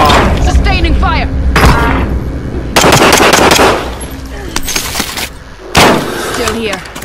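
Rapid automatic gunfire bursts from Call of Duty Warzone on Rebirth Island, loud and close, with sharp volleys separated by brief lulls and faint voices underneath.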